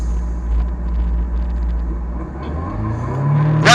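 Racing motorcycles idle on the start grid before a women's Formula Femme race, a low steady engine rumble that builds slightly as one revs up toward the end, with a brief sharper burst at the close.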